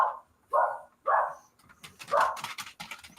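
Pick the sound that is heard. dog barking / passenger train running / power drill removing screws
dog barking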